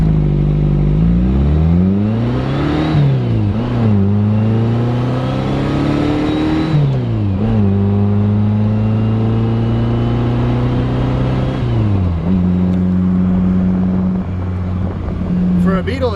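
A 1968 VW Beetle convertible with a 1776 high-performance engine accelerates hard while driving, its loud, close air-cooled drone rising in pitch through each gear, then dropping at every shift before climbing again.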